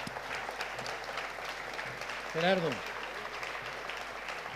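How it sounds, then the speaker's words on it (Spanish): Audience applause fills the hall to close a panel session at a conference forum, a steady wash of clapping with one brief spoken word cutting through near the middle. "Un aplauso, por favor, este magnífico panel."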